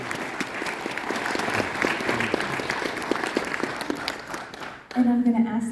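An audience at an honor society induction ceremony applauds the new inductees with sustained, even clapping from many hands. It cuts off near the end as a voice begins speaking.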